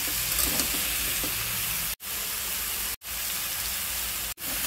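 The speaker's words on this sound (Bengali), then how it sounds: "হলুদ লবণের সাথে 5 মিনিট এভাবে কষিয়ে নেব" Vegetables sautéing in a pan with turmeric and salt give a steady close sizzle and hiss, broken by three short gaps, with no talk.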